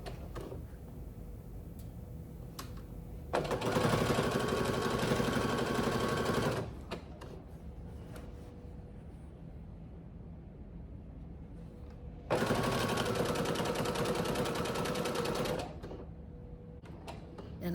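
A sewing machine runs in two steady bursts of about three seconds each, stitching down a quilt's binding with a backstitch. Quiet pauses separate the bursts, with no talking.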